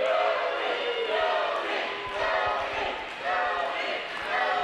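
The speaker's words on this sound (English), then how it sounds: "Crowd chanting for Nobe Bryant to get up" A wrestling crowd chanting in rhythmic waves, a loud sustained chorus that rises and falls with the repeated chant, with a few thumps underneath.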